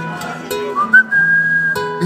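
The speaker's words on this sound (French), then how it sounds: "Tout le monde siffle." A person whistles a short, clear melodic song intro at a live rock concert in Maubeuge, the tune rising into a sustained note over crowd and stage noise.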